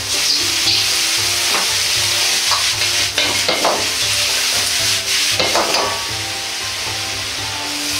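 Continuous loud sizzling as bamboo shoots for green pepper steak are stir-fried in a hot wok with soy sauce, with scraping and tossing sounds throughout, no voices.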